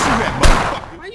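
A single loud gunshot burst from the video game 25 to Life hits with a sharp attack and a short decay, and a voice speaks around it.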